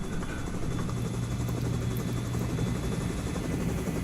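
Helicopters hover overhead in the VR shooter Onward, a loud, steady, dense rotor roar with rapid thumping that fills the scene without letup.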